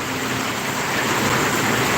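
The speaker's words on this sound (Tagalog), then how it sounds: "So ayan na naman, humina na naman ang ulan." Steady, dense rain hiss from a typhoon in the provinces, a continuous wash of falling rain with no voices, constant in level throughout.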